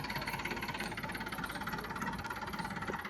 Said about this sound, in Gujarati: જો ટ્રેક્ટર રિવર્સમાં આવી ગયું છે